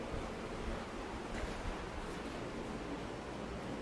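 Onions cook in a pan with mustard seeds and curry leaves for a tomato rasam, giving a steady, even sizzle that stays level throughout without pauses.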